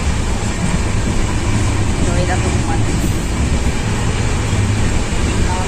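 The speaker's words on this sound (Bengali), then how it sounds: "এই যে ট্রেন গেল মা ট্রেন মা ট্রেন ট্রেনের আওয়াজে ভয় পেয়ে গেল" A passing train gives a loud, steady rumbling roar that fills the whole stretch, with a person speaking briefly over it.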